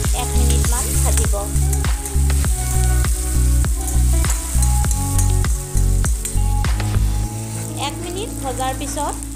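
Chopped onion and green chilli frying in hot oil, a loud continuous sizzle under rhythmic background music with a steady beat, heard close up throughout.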